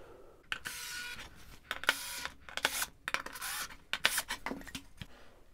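Screws are driven into the back of a wooden Toniebox shelf, heard as a series of close, sharp scraping and rasping bursts separated by brief pauses.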